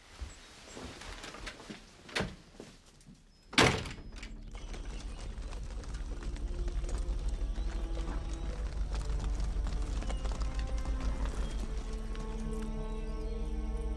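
A few sharp knocks and a loud thump give way to continuous clattering and rumbling of horses' hooves and movement close by.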